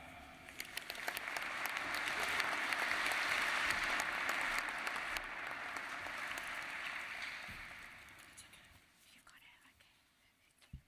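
A hall full of graduates and guests applauds a speaker at a Melbourne University graduation ceremony, with steady clapping that swells over several seconds and then thins out to a few scattered claps.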